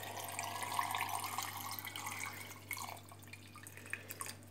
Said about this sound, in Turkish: su ekliyoruz